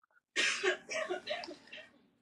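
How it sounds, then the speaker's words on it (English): A single muffled cough from a distance, followed by a short rough throat-clearing rumble, then quiet. "It's just dead silence and then a cough in the background."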